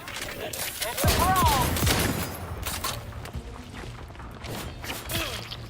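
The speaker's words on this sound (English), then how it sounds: "Oh, I actually accidentally shot a grenade." A grenade launches and gunfire rattles in The Outer Worlds 2, with several sharp shots and a heavier blast in quick succession, then scattered bursts under game sounds.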